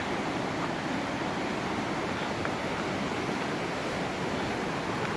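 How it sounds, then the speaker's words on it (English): Flooded river rushing over its banks at a high, dangerous flow, a dense continuous roar of water, loud and steady with no voices. "There's the river over the banks. High flow rate, very dangerous."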